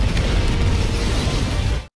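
In an animated fantasy battle, spirits released from a banner blow up in a dense, loud, rumbling blast that roars continuously for about two seconds, then cuts off abruptly.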